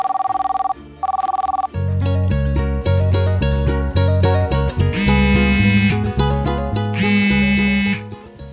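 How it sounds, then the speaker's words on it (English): A telephone rings twice in short electronic bursts, then a loud cheerful Christmas tune plays over the line, close and alone, while a call is placed to Santa. "I gotta give Santa a call."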